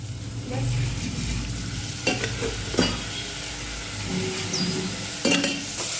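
Fresh Amul milk with sugar being stirred in a pot on the stove, with steady scraping and soft clinks over a low hiss of heat, a few sharper knocks of the utensil against the pot.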